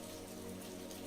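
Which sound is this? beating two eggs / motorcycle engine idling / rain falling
rain falling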